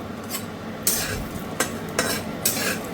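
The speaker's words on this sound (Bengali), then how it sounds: "এবার বড়িগুলোকে মাঝারি করে ভেজে নেব" Lentil dumplings (bori) frying in oil with a light pinch of salt, a steady sizzle broken by a few louder scraping stirs of a spatula against the pan.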